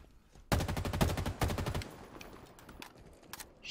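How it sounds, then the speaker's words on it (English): Rapid bursts of video game gunfire crack out from about half a second in, a dense automatic volley lasting over a second, then scattered fainter shots trail off into the background. "Shooting on point."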